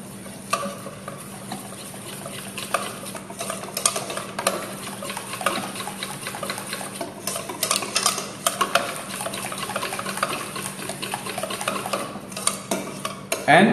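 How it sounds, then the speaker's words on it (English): Waffle batter stirred with a rubber spatula at a live cooking demo, a steady run of soft scraping and wet slapping strokes against the bowl with occasional clinks, continuing throughout at moderate loudness. "In order to mix it up better, use your rubber spatula and get everything out. Once everything is out, again just give it a nice mix."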